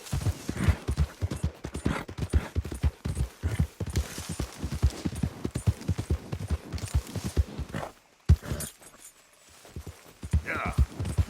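Horse hooves gallop during a race in Red Dead Redemption 2, close and steady in a fast, even clip-clop rhythm that pauses briefly before resuming, while a voice speaks over it.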